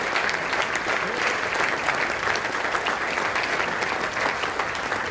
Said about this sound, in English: Can we please all give them a round of applause?